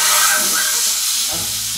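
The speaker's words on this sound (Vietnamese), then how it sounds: "Mình sẽ cho 2 cái chân giò rửa sạch vào trong cái chảo nha." Two washed pork trotters sizzle loudly in a hot pan, a steady, close, broadband hiss of frying that eases slightly toward the end, with no talking.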